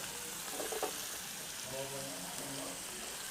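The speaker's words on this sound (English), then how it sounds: "while we're waiting for our lamb to be seared" Lamb searing in a hot pan gives a steady, dense sizzle and crackle that runs throughout at a close, even level, with faint voices talking under it.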